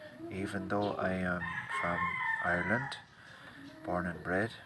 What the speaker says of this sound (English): Please forgive the occasional rooster. I suppose you can hear them there in the background, crowing away.